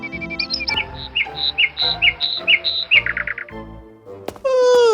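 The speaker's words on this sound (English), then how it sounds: "What an annoying and noisy bird!" A noisy bird chirps repeatedly in quick, bright, rhythmic tweets, loud and close, then stops as a voice lets out an annoyed groan.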